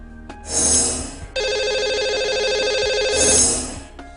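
A telephone ring tone sounds while a caller is dialed on a Hindi radio or TV show, a short rising chirp followed by a sustained warbling electronic ring and a final swell that fades out.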